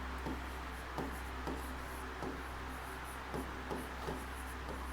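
Pen writing on paper during an accounting lesson, a quiet scratchy scribbling with soft periodic strokes, close and faint with no voice over it.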